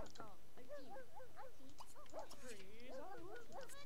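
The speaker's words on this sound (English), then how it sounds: "this dog is still here around. Why are you barking?" A dog in The Sims 2 barks and yips repeatedly in short, close bursts, mixed with whimpers, while a person talks over it.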